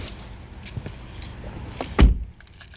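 Someone getting into a remote-started 2019 Honda Civic, with faint key jingles and rustling, then a solid door thump near the end, close by, over a steady low idle hum.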